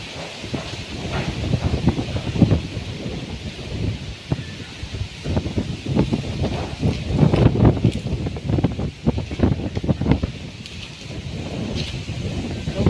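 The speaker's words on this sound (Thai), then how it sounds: "ลมแรงมากเลยลูกทำไมลมแรงจังเลยลูก" Very strong wind roars and buffets across the microphone during a storm as rain begins, a steady gusty rush with rustling, loud and continuous throughout.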